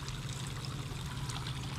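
Water from a siphon drains out of a grow bed into a 40-gallon tank, making a steady close trickle and splash that runs without pause for the whole moment.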